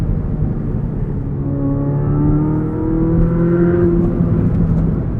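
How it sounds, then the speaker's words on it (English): Exhaust from a 2023 Chevrolet Corvette Z06 on a winding road, a loud continuous engine drone with rising harmonics as the car accelerates, heard close from inside the cabin with no talking. "the exhaust is just insane"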